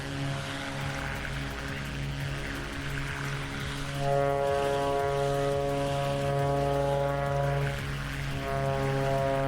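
A propeller aircraft engine drones steadily in a flight simulator during a cross-Canada flight, a loud continuous buzz with strong harmonic tones that grows slightly louder partway through.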